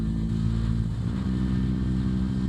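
A BMW R 1300 GS Adventure motorcycle in enduro mode pulls hard under acceleration and shifts up, its engine droning loud and close in a continuous roar with no talk.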